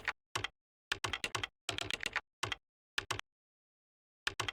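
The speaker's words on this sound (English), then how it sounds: "Okay, Clamp, stop typing" Rapid keyboard typing from a video game, crisp clicks in short irregular bursts separated by silent pauses, close and fairly quiet with no talking.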